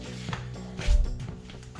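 A press seating a new bushing into a Jeep JL track bar, giving a short burst of mechanical creaking and ratcheting with a heavy thump near the middle, close up, with no talking.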